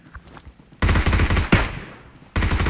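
Bursts of automatic gunfire from a PUBG Mobile match: a loud rattling burst, a sharp crack mid-way, then another close burst near the end, with no talk.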